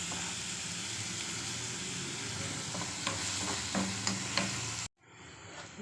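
Salted onions sizzle steadily in a hot pan, with a few spoon scrapes, before the frying noise cuts off abruptly near the end.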